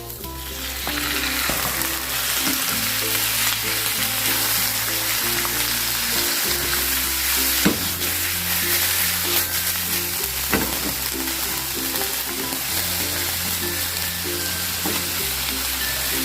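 Pork belly (liempo) frying with onions in a pan for pork adobo, a steady loud sizzle running unbroken throughout with a low tonal hum or music bed beneath it.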